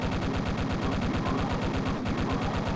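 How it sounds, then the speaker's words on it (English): Rapid, sustained chain gun fire in a Wolfenstein-style shooter set in a dark military bunker map, a steady loud mechanical stutter of shots with no pauses. "I've really only got the chain gun now."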